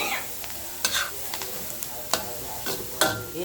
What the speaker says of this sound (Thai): ใส่กระเทียมลงไปแล้วปิดฝาเลยปิด